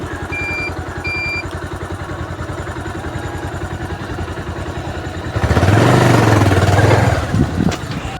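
A motorcycle on the road to a temple, its engine chugging in a steady rapid pulse before a louder, rougher burst of revving and wind rush near the end.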